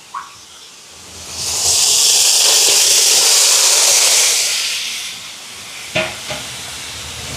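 Chicken pieces hitting a hot pan for a chicken curry, bursting into a loud, sustained sizzle that swells, holds, then fades, followed by a couple of brief utensil knocks.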